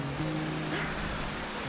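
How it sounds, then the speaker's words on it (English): A small waterfall seen on an early-spring morning walk gives a steady, full rush of falling water, close and even throughout, with a brief faint tone partway through. "we've just found the smallest waterfall ever"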